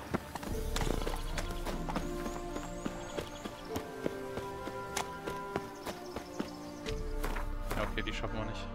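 A horse gallops in The Witcher 3 video game, its rapid hoofbeats drumming steadily over a dense bed of game music and ambience, with someone talking over them.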